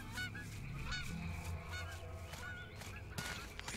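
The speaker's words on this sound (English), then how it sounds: "I think that's a goose." Goose honking in the survival shooter S.T.A.L.K.E.R.: Call of Pripyat with the Misery mod, a series of nasal honks at moderate distance over a constant noisy outdoor ambience.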